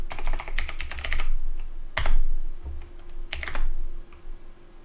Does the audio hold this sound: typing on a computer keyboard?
yes